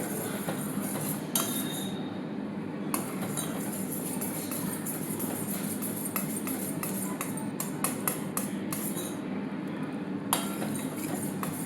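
Jaggery syrup stirred in a pan, with repeated metallic scraping and clinking of a spoon against the pan in an irregular rhythm over a steady background hum, close by and without talking.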